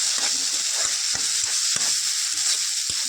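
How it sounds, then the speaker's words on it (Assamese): Bitter gourd curry frying with spices in mustard oil, a steady close sizzle with repeated stirring scrapes and clicks of a utensil against the pan, with no voices. "মছলাখিনি দিয়াৰ পিছত ভালদৰে ভাজি থাকিব লাগিব।"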